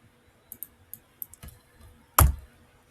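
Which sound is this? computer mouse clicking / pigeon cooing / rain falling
computer mouse clicking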